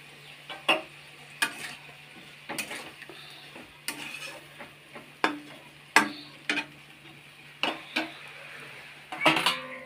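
A spoon stirs vegetable curry with water and chopped tomato in a pan, producing a rhythmic series of scraping clinks against the metal over a soft sizzle, repeating roughly every second.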